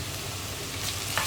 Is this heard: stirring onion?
yes